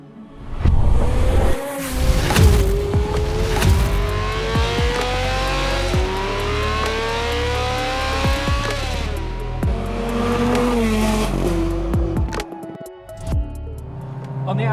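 A tuned 746 bhp Novitec Ferrari 430 Scuderia drives on the street, its engine revving loud and close through repeated rising pulls and gear changes, with brief lifts between bursts.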